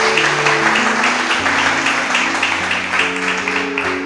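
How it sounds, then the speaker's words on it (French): A church congregation applauds and cheers for God, loud dense clapping from a crowd sustained throughout with a musical tone sounding beneath. "On va acclamer Dieu pour sa vie."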